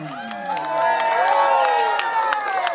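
Outdoor festival crowd at the Eastleigh Mela in the UK cheering and whooping after a soul band plays, with a sustained wash of shouts and scattered claps that swells midway.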